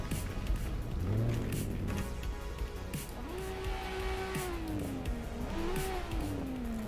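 A rotary-engined Mazda FC in drift trim is driven in Assetto Corsa, its engine revving and droning steadily with rising and falling pitch as it accelerates and eases off, loud and continuous with no talk over it.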